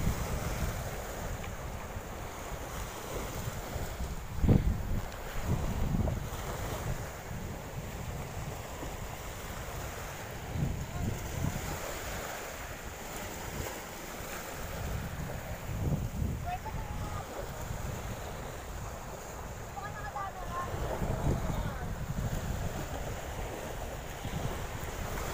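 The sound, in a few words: strong wind by the sea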